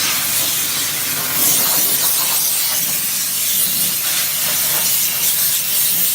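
A loud, steady hiss of a high-pressure steam cleaner blasting continuously on a car before undersealing, with a rough spraying texture that surges slightly but never stops.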